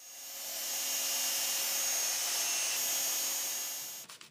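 A handheld belt sander, mounted upside down, grinds the edges of a metal sword with a steady, loud whine that holds for about four seconds and then cuts off abruptly.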